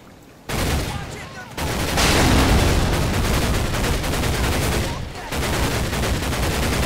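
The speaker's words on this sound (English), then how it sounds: "I'm using an anti-aircraft gun to shoot the ground" Anti-aircraft gun firing in the Medal of Honor video game, long loud bursts of rapid heavy shots blurring into a continuous roar, separated by short gaps.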